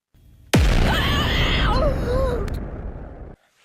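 A single sharp blast hits suddenly and then rolls on as a sustained roar of rushing debris and rumble for nearly three seconds before cutting off abruptly. Faint vocal sounds are mixed into the noise.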